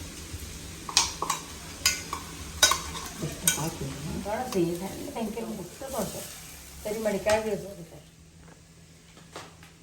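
Masala being stirred and fried in a pan for kadale palya, with clattering stirs and a soft sizzle running underneath, while someone talks over it throughout.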